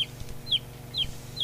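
A chicken clucks in short, high calls repeating about every half second, fairly close and alone over a low background hum.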